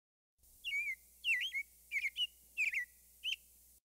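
American robin singing a series of five short warbled phrases separated by brief pauses, clear and isolated against a quiet background.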